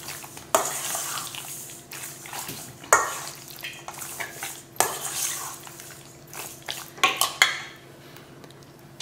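Chicken pieces being mixed by hand or spoon with squeezed half lime juice in a bowl, giving soft wet squelching and scraping with several sharper clinks against the dish, close and fairly quiet with no talking.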